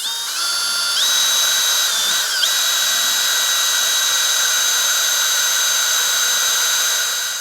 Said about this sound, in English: So I'm going to sit here and just slowly grind it out and make this to where we can get our button in place.